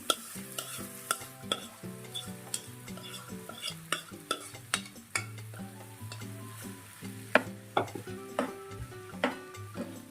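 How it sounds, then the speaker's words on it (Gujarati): A butter-based stuffing for kulhad pizza sautés on low gas, with a soft frying sizzle under repeated, rhythmic scraping and clinking strokes of a spoon against the pan, close and steady with no voices. "આને આપણે ધીમા ગેસ ઉપર થોડું એવું સાતળી લેશું."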